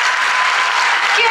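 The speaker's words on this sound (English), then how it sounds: "tonnerre d'applaudissements pour notre Miss Bourgogne 2022." A crowd at the Miss Bourgogne 2022 pageant bursts into loud, dense applause, a continuous roar of many clapping hands that fills the brief moment.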